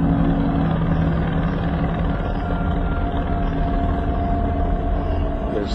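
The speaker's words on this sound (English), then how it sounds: "The helicopter circling it." Helicopter circling overhead, a continuous dense rotor and engine drone holding steady and fairly loud for the whole stretch, with no talk over it.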